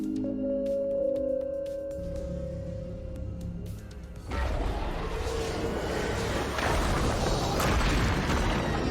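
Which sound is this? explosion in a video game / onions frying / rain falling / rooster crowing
explosion in a video game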